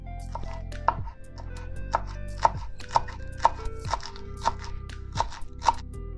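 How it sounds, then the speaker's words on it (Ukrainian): A knife finely chops fresh dill, parsley and green onion on a cutting board, giving a steady series of crisp, close knocks about twice a second, with no talking. "Дрібно нарізаємо зелень крубу, петрушки, а також зеленої цибулі."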